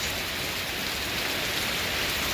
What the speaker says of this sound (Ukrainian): Ось такий в мене йде дощ зараз.